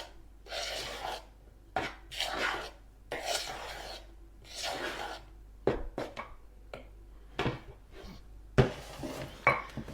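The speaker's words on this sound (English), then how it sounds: "So I'm just going to give that a little stir." A cake mixture is stirred in a bowl, giving a series of soft rasping scrapes in short strokes with a few sharper clinks of utensil against the bowl. The sound is close and fairly quiet, with no talk.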